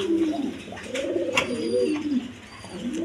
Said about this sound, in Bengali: দোনো জোড়াই খুব ডাকাডাকি করে